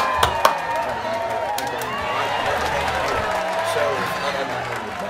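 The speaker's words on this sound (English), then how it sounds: "Give him a round of applause" A studio audience claps and cheers for a guest being brought on stage, a steady wash of applause lasting several seconds after two sharp opening claps.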